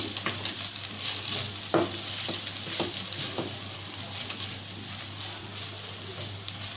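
Banana flower and shrimp curry is stirred while it fries, a soft continuous sizzle with a few sharp spoon scrapes and knocks against the pan early on, then settling into quiet frying.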